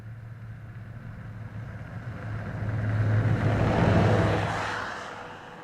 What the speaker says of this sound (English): the impacts or the effects of over snow vehicle noise on the park